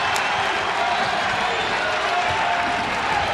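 Home crowd in a Chicago arena cheering and clapping at a DePaul men's basketball game against Xavier, a loud, sustained roar of voices and applause filling the space, with an announcer talking over it.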